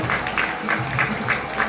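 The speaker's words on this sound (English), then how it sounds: "Let's give a big round of applause." Audience at a Tokyo Marathon press conference applauding athlete introductions, light steady clapping at moderate level through the brief stretch.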